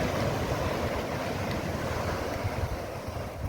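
Steady wash of ocean surf on Old Digha sea beach at low tide, a continuous broad roar with wind buffeting the microphone and no distinct breaking crashes.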